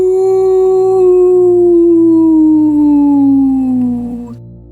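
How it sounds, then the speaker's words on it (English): A single long dog howl, loud and close, holding a steady tone before gliding slowly downward and fading at the end, with no talk over it. "Once again, Mutsie howled at the moon."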